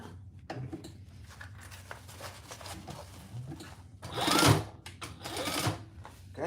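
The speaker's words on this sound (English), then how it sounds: "And we're gonna stitch that on, just baste it on." A sewing machine basts fabric for a Monarch mini quilt project, its motor whirring in short bursts with a louder, sustained run near the end, fairly quiet and without talk.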